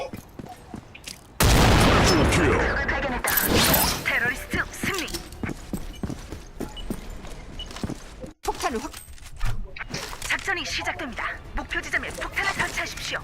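In Counter-Strike 2, a grenade bursts in a sudden loud blast with a rushing roar that fades over a couple of seconds. Clattering gunfire, footsteps and players talking over voice chat follow.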